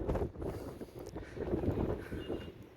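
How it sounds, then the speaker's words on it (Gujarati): Wind gusts across the top of a hilltop fort overlooking a city and lake, a faint, continuous rumbling buffet on the microphone with no voices. "સારી એવી હવા આવી રહી છે"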